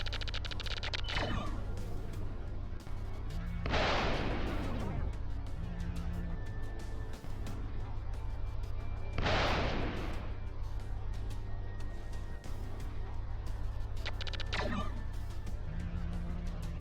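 Cannon fire in a retro sci-fi space and aerial combat game: a few separate bursts, each a short broadband blast with a quick roar and fade, heard over a steady low engine drone.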